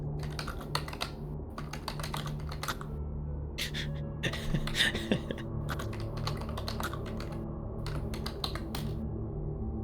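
Fast tapping keys in a game scene where a bard types on a typewriter, coming as bursts of crisp clicks split by short pauses over a low steady hum.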